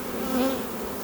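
A honey bee colony buzzes during a hive inspection, giving a dense, steady, close hum of many bees with a slight rise in pitch and loudness partway through.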